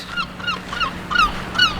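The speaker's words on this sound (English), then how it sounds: "There's geese." Several geese honk in quick, irregular succession, moderately close, over a low background hum, in a park in Belgium or the Netherlands.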